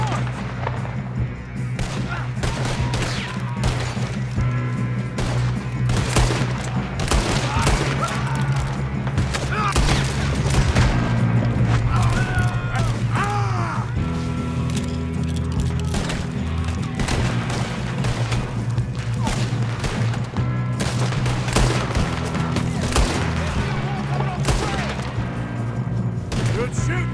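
A Red Dead Redemption 2 shootout: dense, sustained gunfire with repeated sharp shots and booming blasts, loud and continuous over a low music bed, with voices breaking in now and then.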